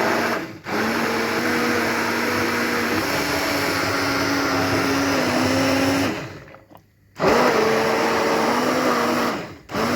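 A food processor grinds black mulberry sherbet pulp in a loud, steady motorized whir, cutting out briefly twice before restarting, with no voices present.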